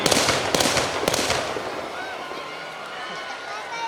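Fireworks burst at an evening show on a boys' college ground in Mahabubnagar, with a rapid cluster of loud cracks and crackles up front, then a fading roar and distant rumble; crowd voices mingle throughout.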